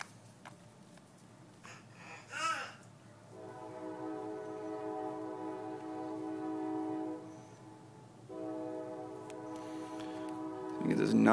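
A passing train sounds its horn, blaring two long sustained blasts separated by a short break, loud and close, over a rumbling background.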